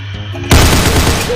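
Gunfire in the Roblox shooter Counter Blox during a competitive match: a loud burst erupts after a quiet lead-in and continues as dense, continuous rapid fire with no talking.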